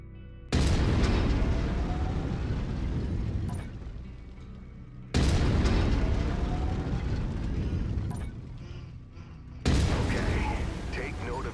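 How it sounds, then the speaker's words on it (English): An autocannon fires in the MechWarrior 5: Mercenaries video game, with three heavy booming blasts spaced a few seconds apart, each trailing off into a long mechanical rumble, loud and close. "I've mapped the autocannon to Weapon Group 1. You're free to fire whenever you're ready."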